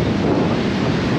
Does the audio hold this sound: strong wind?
yes